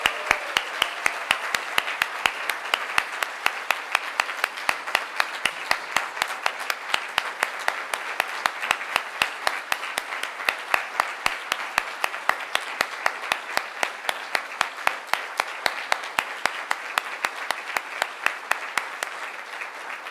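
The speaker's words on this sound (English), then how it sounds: "Now, riotous applause." Sustained clapping fills a room at a university boards dinner, a thick wash of applause punctuated by sharp, regular hand claps near the microphone, holding steady and loud for the whole stretch without speech.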